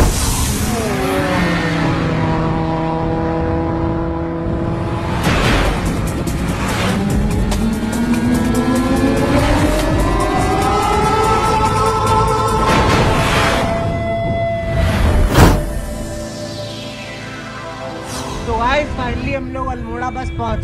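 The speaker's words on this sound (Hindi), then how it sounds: "तो चलिए थोड़ी बाइक भगा के देखते हैं" A Bajaj Pulsar 220F motorbike accelerates along a straight road in Uttarakhand, its engine pitch rising steadily through the gears, loud and close, with brief surges of wind and road noise.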